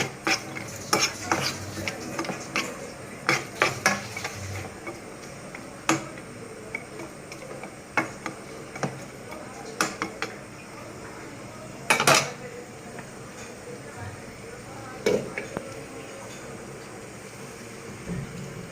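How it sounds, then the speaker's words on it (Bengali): Jackfruit seeds are stir-fried in a pan, giving a quiet background sizzle broken by sharp, irregular clinks and scrapes of a utensil against the metal, close and with no talking. "ভালো করে এভাবে 3 মিনিটের মতো আমি কাঁঠালের বিচিটা কষাবো।"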